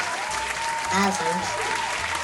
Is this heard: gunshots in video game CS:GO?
no